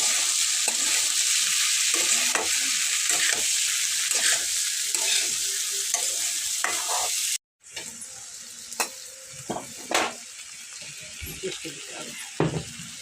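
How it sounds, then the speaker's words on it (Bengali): Green peas sizzle in a hot pan with coriander, cumin and Kashmiri chili powders while being stirred. The frying hiss is continuous, broken by scraping stir strokes and one brief cut, with no talking. "এবার আমি মটরের সাথে এই মশলাটাকে মিশিয়ে নেব"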